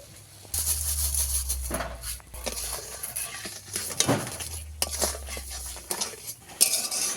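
A spoon stirring milk and sugar in a pot, scraping and clinking against the metal in uneven strokes, close and fairly quiet over a low burner rumble.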